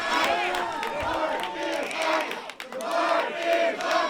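A wrestling crowd in Portland chants and yells in a rhythmic, swelling roar of many voices, loud and close throughout with short pauses between bursts.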